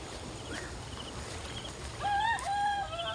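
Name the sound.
rooster crowing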